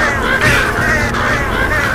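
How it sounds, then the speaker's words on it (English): Crows caw in Left 4 Dead 2, a few hoarse calls close together over a steady, noisy game background throughout. "Freaking crows."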